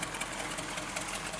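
A 1978 GMC 3/4 ton two-wheel-drive truck idles with a steady, dense rumble through a 2-inch aftermarket exhaust with square mufflers, sounding close and continuous with no pauses.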